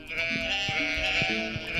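In the Stardew Valley farm game, a sheep bleats in a short wavering cry, followed by a couple of brief grunting bleats, close and clear with no speech.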